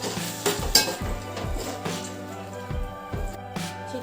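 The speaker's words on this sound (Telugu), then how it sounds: "ఉల్లిపాయ కచ్చపచ్చగా రుబ్బుకున్నాం కదా, వాటిని ఇందులో వేసుకొని పేస్ట్ ఫ్రై చేసుకోవాలి." Onion paste for fish curry frying in a pan, an underlying sizzle punctuated by repeated metallic clinks and ringing knocks of a utensil against the pan.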